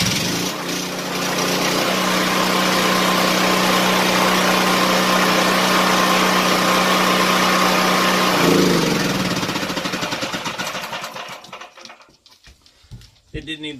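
A Powerhorse 7000 generator engine runs steadily and loudly close by for about eight seconds, then its drone shifts and fades unevenly as it winds down; someone talks over it.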